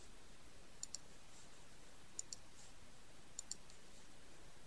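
Faint computer mouse clicks sound over steady background hiss in animation software, arriving in three pairs of quick double clicks spaced about a second apart.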